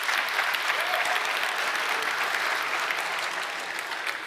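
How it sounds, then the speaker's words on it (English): A tech conference crowd claps to cast a vote for spaces over tabs, a full, even roar of many hands that stays strong and tapers slightly toward the end. "clap your hands."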